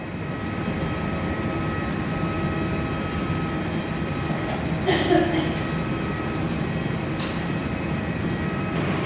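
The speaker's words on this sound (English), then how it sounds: "we've got Qatar Airbus A350-9 just taxiing into terminal number 1" A Qatar Airways Airbus A350-900 taxis to terminal 1 at Perth Airport, heard from an indoor viewing platform: a steady, distant engine rumble and whine throughout, swelling briefly around the middle.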